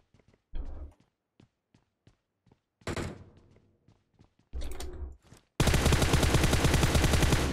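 Gunfire in the PUBG Mobile video game, starting with scattered single shots and mechanical clicks, then several loud bursts, ending in a sustained rapid automatic volley.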